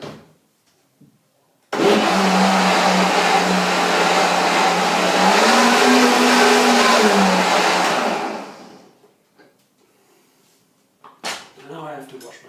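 Blender loudly whirring through a mint vanilla pea soup in a home kitchen, running steadily for about six seconds with a pitch rise midway before spinning down, followed by quiet clatter and brief talk.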